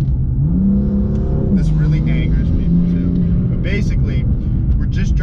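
A BMW M4 with its exhaust valve held open revs hard while driving, loud rising and falling engine and exhaust tones close by, with someone talking over the noise.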